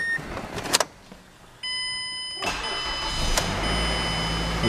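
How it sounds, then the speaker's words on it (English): A 2009 Mazda CX car engine cranks and catches after a few clicks, then settles into a steady, close idle that holds to the end. "As you can see, the car starts right up, runs great."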